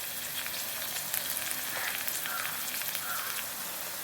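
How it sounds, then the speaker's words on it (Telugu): Onions with salt frying in hot oil for a tamarind pulusu, a dense continuous close sizzle with faint crackles, steady throughout with no talk. "అందుకని ఇది బాగా వేగనీయండి."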